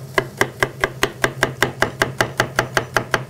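A knife chops celery on a cutting board with about fifteen crisp, evenly spaced strikes in a quick, steady rhythm, loud and close, with no talking.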